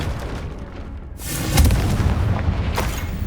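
A Confringo blasting spell explodes in the Hogwarts Legacy video game: a deep, loud boom bursts out after a quiet stretch and keeps rumbling on.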